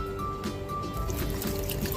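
Water is poured into a pot while cooking shrimp sinigang, a soft trickling and splashing stream heard close by with some faint background clatter.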